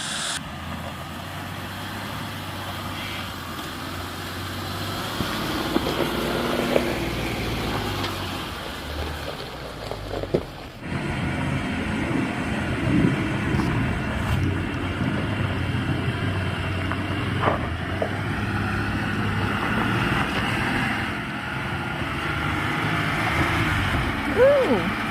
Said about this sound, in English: Alright, so Marty's driving.